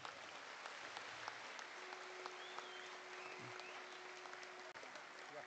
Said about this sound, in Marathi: या सर्वांसाठी एकदा जोरदार टाळ्या.